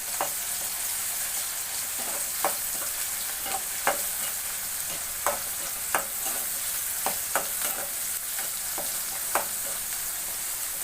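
Tomato and onion sizzle steadily in a hot pan while a utensil stirs them, with sharp scraping strokes at irregular intervals over a continuous frying hiss and no voices.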